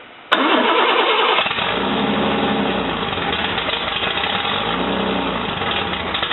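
A Toyota 2F engine without after-start enrichment cranks and fires on a cold start, then settles into a loud, steady, slightly uneven idle close by, with no talking.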